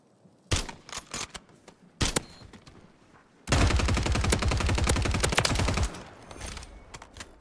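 Gunfire in the shooter game Warzone: a few short bursts early on, then a long, loud sustained volley of rapid automatic shots that cuts off and gives way to fainter scattered noise.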